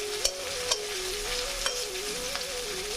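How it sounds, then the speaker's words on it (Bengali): Onion and ginger-garlic paste fry in a pan, giving a steady close sizzle broken by a few sharp clicks and scrapes of a stirring spoon, with no one talking. "আমি পেঁয়াজের সাথে আদা রসুন বাটা দিয়ে দিলাম, দিয়ে ভালোভাবে আদা রসুনটা আমি ভেজে নেব।"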